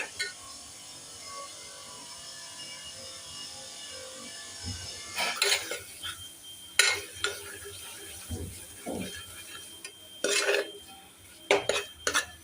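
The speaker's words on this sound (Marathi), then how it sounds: "तोपर्यंत आपण परतत राहायचं, म्हणजे हे शिजतात पण आणि त्याचा एक वेगळाच स्वाद येतो।" Chickpea masala paste being sautéed in a pan, with a soft frying sizzle under repeated scraping and clinking strokes of a spoon against the metal pan, close and intermittent.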